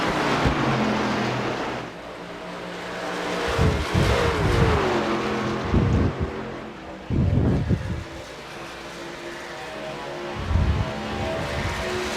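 Race trucks in a MARS Truck Series event roar past one after another, each pass a loud, revving swell that fades before the next truck closes in.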